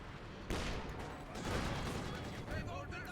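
Artillery fire from light infantry guns and a heavy mortar in a Company of Heroes 2 match, with rumbling booms and crackling blasts layered into a busy, muffled battle din.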